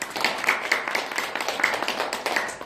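Audience clapping for a guest being introduced on a Korean talk show, a short burst of scattered, uneven claps from a modest crowd close by.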